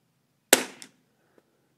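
A single sharp shot from a Savage Mark II rifle, close and loud, with a short ringing tail and a faint echo, then a small click afterward.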